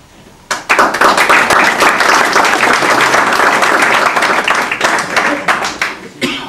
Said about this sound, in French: je pense que vous pouvez encore les applaudir